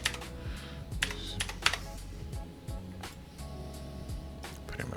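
A username being entered on a computer keyboard: bursts of quick, close key clicks with short pauses between them, fairly soft and with no voices.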